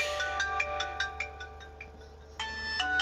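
A mobile phone ringtone chimes in a repeating melodic pattern of bright tones, fairly close, with no voices over it, in a workshop where EFB car batteries are being charged.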